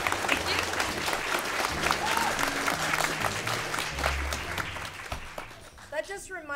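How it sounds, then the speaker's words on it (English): An audience at a school music showcase applauds warmly for the performing groups. The steady clapping fills the space and fades slightly near the end. "how about we just do a nice warm uh, round of applause for our groups that are here tonight"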